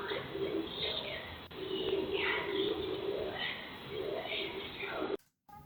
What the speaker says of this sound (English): It's like someone breathing into the Ring camera's microphone.